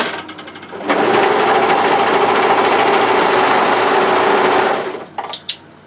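An overlocker stitches the band seam of a knit cardigan, a loud, fast, even mechanical chatter that runs for about four seconds before stopping, followed by a few small clicks.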